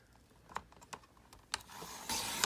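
Scissors cutting across the top of a paper junk mail envelope, with a few faint snips and rustles close up, followed by a louder crinkly paper rustle.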